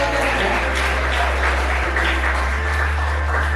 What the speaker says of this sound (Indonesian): kita tepuk tangan untuk Anas ya